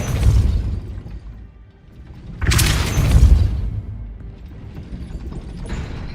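A Depulso spell blast in Hogwarts Legacy, a sharp whooshing burst with a mechanical clank, set among other rumbling spell effects and background game sounds, with no talking.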